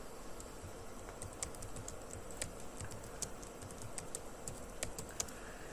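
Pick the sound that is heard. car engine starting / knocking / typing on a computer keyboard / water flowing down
typing on a computer keyboard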